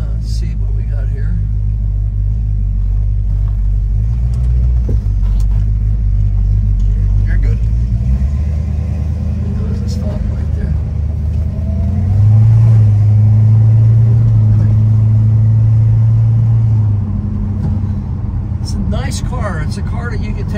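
A 1970 lime green Plymouth GTX with a 440 V8 idles with a deep, steady rumble, then revs up once for a few seconds and settles back down. The engine is close and loud.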